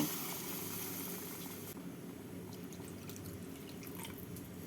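Water being poured into a pan of fish curry made with katla fish, a steady soft trickling and dripping wash that runs continuously, louder for the first couple of seconds and then thinner, with no talk.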